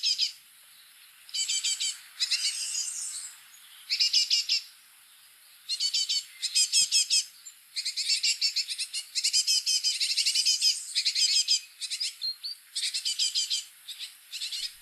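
Great tits and blue tits chirp in a near-continuous stream of high, bright calls and song phrases in late afternoon, coming in close, rapid bursts with only short gaps.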